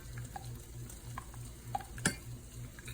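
Honey lemon sauce with cayenne pepper stirred in a skillet, giving a steady low sizzle with soft scraping strokes and one sharper clink near the end, close and fairly quiet.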